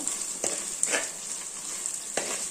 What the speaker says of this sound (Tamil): வெங்காயம் நல்லா வதங்கட்டும் பூண்டு நல்லா வேகட்டும் கொஞ்சம் சிம்மில் தான் வச்சுருக்கேன்